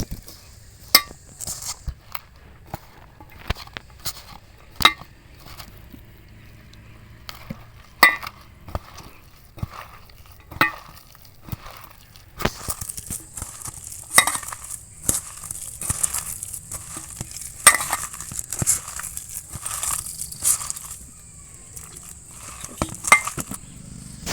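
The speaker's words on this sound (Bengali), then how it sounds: "এবার এর মধ্যে অল্প অল্প করে জল দেব দিয়ে একটু মাখিয়ে নেব" Gram flour batter being mixed with small additions of water in a bowl. A spoon clinks and scrapes against the dish in irregular bursts, with soft wet stirring between the sharp knocks.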